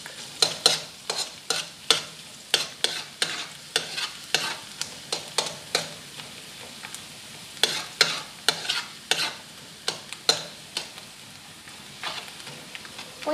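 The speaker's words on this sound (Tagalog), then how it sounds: "magpa-fry na yung garlic na nilagay ko dyan" Garlic frying in hot oil for fried rice, a soft continuous sizzle under steady rhythmic scraping and stirring strokes of a utensil against the pan, close up with no talking.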